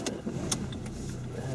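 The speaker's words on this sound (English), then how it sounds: "Start the car." Car engine starting during a driving lesson, a short mechanical crank and catch settling into a low, steady idle hum, close by, with brief clicks at the start.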